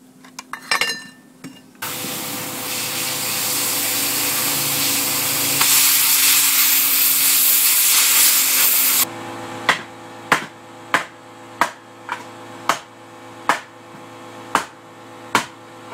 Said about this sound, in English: I guess we could open this up with the old plasma cutter